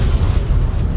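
In Fallout: New Vegas, a laser detonator explosion sounds as a loud, dense, continuous low-frequency roar with no talking.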